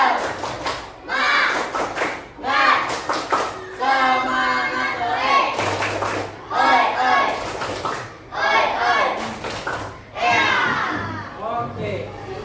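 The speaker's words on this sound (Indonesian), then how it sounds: "Tepuk semangat." A group of schoolchildren does the tepuk semangat spirit clap in a classroom, with loud rhythmic bursts of clapping and chanted shouts in repeated patterns, close and energetic.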